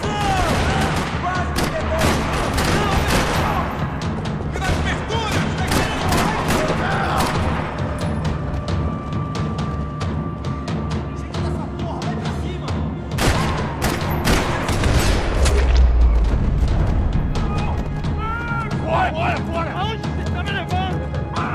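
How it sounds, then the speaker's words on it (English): Dense bursts of gunfire and booming shots fill a parking lot scene in the video game Max Payne 3, loud and near, with talk mixed in beneath the shooting. "Another parking lot rattling with gunfire."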